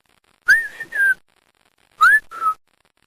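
Two short pairs of clear whistled notes, each pair rising then holding, separated by a pause in otherwise quiet surroundings.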